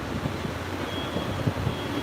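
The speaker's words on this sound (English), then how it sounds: "Okay, winds are picking up." Strong wind during Hurricane Sally, a loud broadband roar battering the microphone in uneven gusts for the whole stretch, with no voices.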